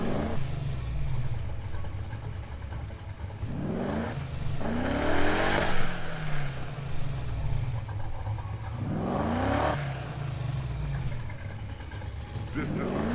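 A 1965 Ford Mustang in Need for Speed Heat, fitted with a new exhaust, revs repeatedly in loud surging bursts that rise and fall with gaps of idle between them, with a voice talking over parts of it.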